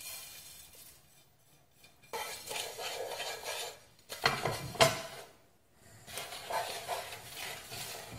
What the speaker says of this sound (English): I'm going to put the dry ingredients into the pan.